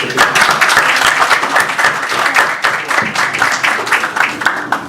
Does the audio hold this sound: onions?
no